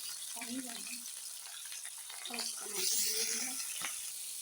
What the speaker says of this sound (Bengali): মাছগুলো ভাজা হচ্ছে, হোক, একটু সময় লাগবে